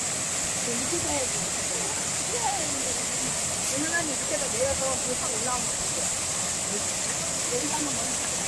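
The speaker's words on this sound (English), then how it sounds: "The sound of the running stream seems like it's washing away the busy and stressful life in the city." A running stream in a mountain valley on a spring day in Korea, a steady continuous wash of flowing water with birdsong chirping faintly over it.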